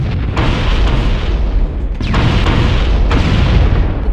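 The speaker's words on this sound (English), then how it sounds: "The Covenant are destroying the life pods." Explosions in the Halo video game as Covenant forces destroy life pods: heavy rumbling blasts, loud and continuous, with sharper bursts recurring every second or so.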